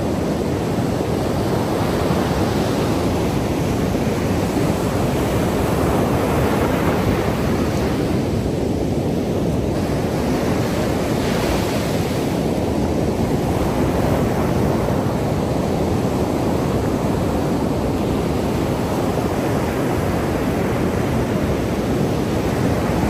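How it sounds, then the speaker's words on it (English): Ocean surf on an Outer Banks beach, a continuous heavy roar of breaking waves with slow swells in intensity over more than twenty seconds, loud and close, no talking. "I feel like I need to get closer to the beach."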